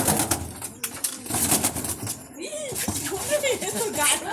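Pigeons coo and stir close by inside a pigeon house, their soft calls and wing flutters mixed with people talking over them during an Indian rat snake rescue.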